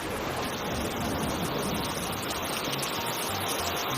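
Steady, dense hiss of heavy rain falling, constant and close throughout with no pauses.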